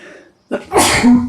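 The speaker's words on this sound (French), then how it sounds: "Elle éternue." A single loud, close sneeze from a woman, a sharp inhale and burst with a brief voiced tail at the end.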